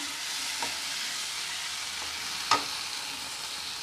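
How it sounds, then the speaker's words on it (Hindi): Masala spices for chana masala frying in a pan make a low, even sizzle, broken by a couple of soft spatula scrapes and one brief clack. "एबे टिके मसला के भाजमा"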